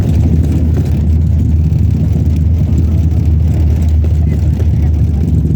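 A bus drives over a bumpy road, its engine droning loud and steady up close with rattling jolts and a constant low rumble throughout.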